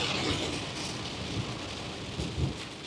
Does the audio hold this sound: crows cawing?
no